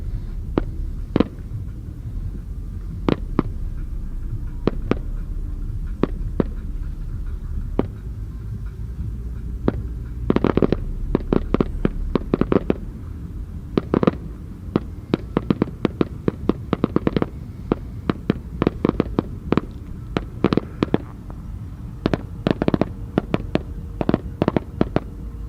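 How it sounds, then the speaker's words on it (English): Fireworks boom at the Burning Man man burn, starting as scattered bangs and building into dense volleys of rapid cracks and pops over a low, steady rumble, fairly distant. "expect a badass fireworks show"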